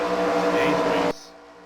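Engines of race cars in an iRacing Cup Series race on the old Phoenix track drone in a steady, layered hum as the field rolls off, then cut away abruptly to near silence.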